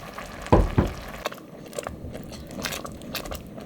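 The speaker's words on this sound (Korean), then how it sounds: "밥알이 퍼지게끔 살살 저어주세요" Mung bean chicken rice porridge stirred gently in a pot over high heat, a couple of thick wet scrapes and plops up close, then soft bubbling and faint clicks of the spoon.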